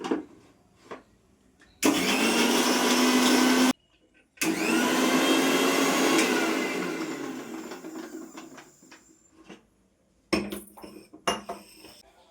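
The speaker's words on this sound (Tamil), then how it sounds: "இஞ்சி பூண்டு வந்து எடுத்து வச்சுருக்கிறேன் இப்போ வந்து பேஸ்ட்டாக அரைச்சி எடுத்துக்கலாம்" A mixer grinder grinds ginger and garlic into a paste in two loud, close bursts of whirring motor roar. The motor stops between bursts, and the second burst winds down slowly, followed by clattering handling sounds.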